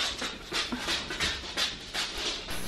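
Dogs pant close by in quick, breathy, rhythmic bursts, soft and steady with a faint whimper, and no other sound around them.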